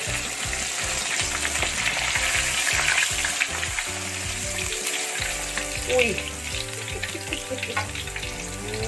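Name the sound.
whole squid deep-frying, oil splattering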